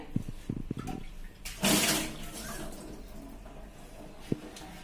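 A brief splash and gush of filtered water rinsing an old clay water pot, quiet and close, with a few soft clinks before and after.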